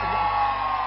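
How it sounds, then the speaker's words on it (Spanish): Crowd shouting and whooping at a political campaign closing rally in San Luis Río Colorado, Sonora, a dense, loud, continuous roar of many voices held steady throughout. "¡Y ese grito de la gente de frente!"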